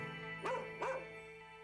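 A dog in a TV episode gives two quick, close yipping barks a fraction of a second apart over a steady background hum.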